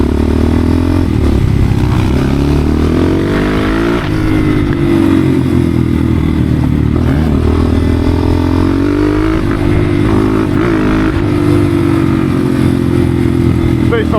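A 300cc motorcycle engine drones loudly and continuously while being ridden, its pitch rising and falling with throttle changes, close to the microphone, with someone talking over it throughout.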